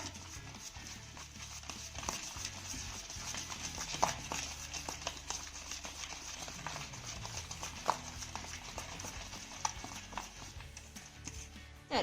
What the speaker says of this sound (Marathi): आता हे सर्व साहित्य आपण यामध्ये चांगलं मिक्स करून घेऊया